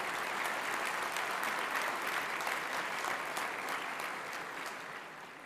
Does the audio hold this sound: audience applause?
yes